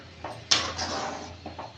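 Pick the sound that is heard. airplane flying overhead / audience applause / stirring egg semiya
stirring egg semiya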